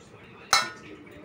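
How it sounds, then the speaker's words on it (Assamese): A knife cuts through taro in a home kitchen, producing one sharp, bright clink-like strike against a quiet background before it fades out quickly. "এয়া মই এটা কচু কাটি আছো"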